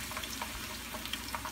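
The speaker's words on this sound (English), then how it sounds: "I've got my oil hot and ready for my fries." Very thin home fries bubble in hot oil, a dense close sizzle with small crackling pops, brief and steady with no voices.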